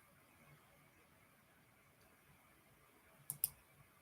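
A computer mouse clicks twice in quick succession near the end, sharp and close, preceded by a faint single click, over a quiet background hum with no talking.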